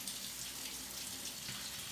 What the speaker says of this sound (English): Give these beans a little bit of a rinse.